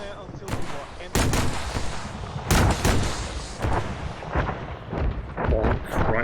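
Heavy tank cannon fire in a video game, a series of booming shots with sharp onsets, several in quick succession and others spaced apart, each trailing a rumbling decay over steady background noise.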